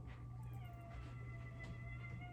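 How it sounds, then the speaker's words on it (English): A house cat gives faint, short meows over a steady low hum. "You hear my cat?"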